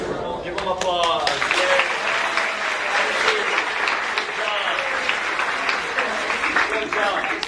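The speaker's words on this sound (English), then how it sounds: "Give them applause." A classroom audience applauding, steady dense clapping from many hands for several seconds, with a voice speaking over the start.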